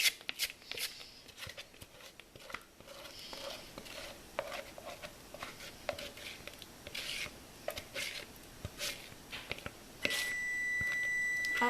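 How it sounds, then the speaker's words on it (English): A kitchen oven timer sounds after preheating while banana bread batter is scraped down with a rubber scraper, a steady electronic beep tone entering near the end over soft scraping and clattering of utensils. "that's the timer for the oven, which has been preheated"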